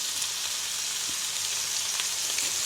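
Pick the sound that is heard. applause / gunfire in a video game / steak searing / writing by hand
steak searing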